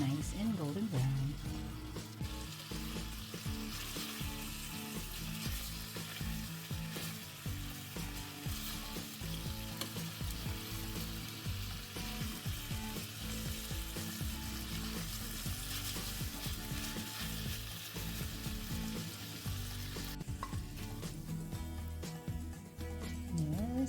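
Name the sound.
pork tocino simmering in water until caramelized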